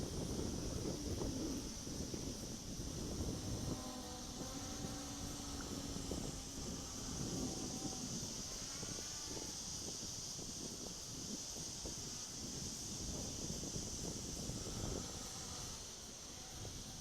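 Steady wind buffets the microphone outdoors with a continuous rushing roar, joined by a faint whining motor hum from an MJX Bugs 3 drone throughout.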